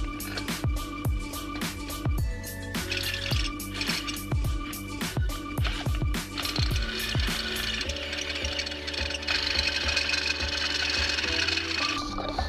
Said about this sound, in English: I got the hole drilled out and the bung sitting in there